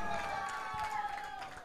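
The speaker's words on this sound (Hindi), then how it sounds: "ठोको ताली" Spectators at an S.P. Boys Chashak 2021 cricket match between Kore and Jalsar cheer and clap together, a dense crowd roar with voices mixed in and a steady level across the short stretch.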